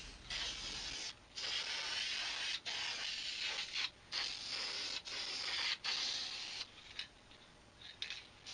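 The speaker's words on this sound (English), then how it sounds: "it's time to put the spray varnish on. I like the Helmsman and in a spray can" Helmsman spray varnish hisses from an aerosol can onto a homemade fine gold sluice in a series of close, sustained bursts separated by short pauses.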